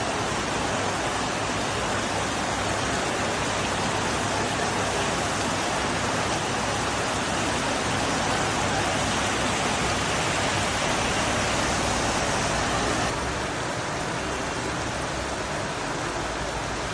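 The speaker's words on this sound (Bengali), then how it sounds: "চলুন আমরা কিছুক্ষণ বৃষ্টি উপভোগ করি" Steady heavy rain pours without pause, a dense, close, even hiss of falling water that fills the whole stretch with no voices.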